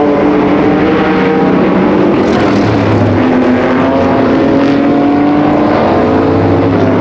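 Canadian vintage modified race cars circle Flamboro Speedway in a steady, loud roar of several engines, pitches rising and falling as the pack runs laps, with no voices over it.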